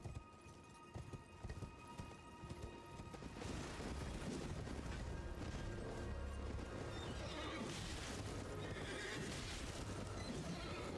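A horse in the Elden Ring video game neighs loudly, with clip-clopping hooves and game effects, and someone talks briefly.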